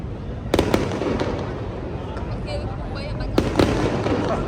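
New Year fireworks are launched at night over Kuala Lumpur, Malaysia, with sharp cracking bursts in a few clusters against a dense crowd murmur. People talk nearby.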